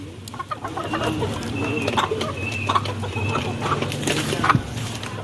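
Desi chickens fight and cluck close by in a farmyard flock, with sharp, excited clucks and squawks over a steady low hum, and a brief scuffle near the end.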